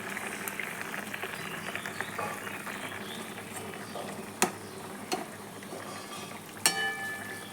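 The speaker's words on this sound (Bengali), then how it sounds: "মাছের ঝোল ফুটছে" A pot of fish curry bubbles and simmers steadily up close, with a few sharp clicks and taps of utensils now and then.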